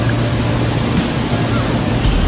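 Kuthunkal waterfall in Idukki, Kerala, pours down forcefully, a loud, close, continuous roar of crashing water with a deep rumbling low end and no voices.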